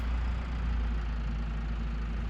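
A tractor engine in a farming video game runs at a steady low idle, a continuous deep rumble with no voices over it.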